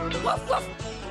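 A dog gives two short, sharp barks in quick succession, close and fairly loud, with a third softer yip near the end and a steady hum underneath.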